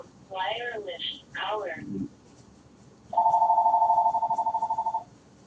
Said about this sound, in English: We don't answer the phone. We ain't studying it. Let it ring.